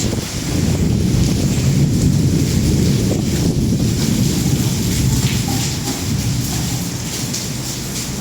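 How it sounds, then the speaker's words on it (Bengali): Wind blows steadily outdoors on a cloudy day in Malaysia, a loud, constant rumbling roar buffeting the microphone for the whole stretch, with no voices. "বাতাস"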